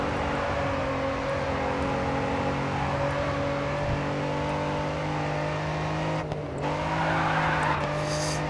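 Racing car engine held at full throttle in the racing video game Grid 2, a loud steady drone with sustained harmonic whine, a brief dip and tire noise near the end, no talk.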